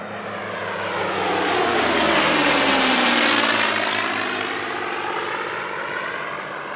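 Propeller aircraft passing overhead during a two-ship formation display at an airshow at Sywell, a loud droning engine roar that swells as it nears and sweeps past with a falling pitch, then recedes.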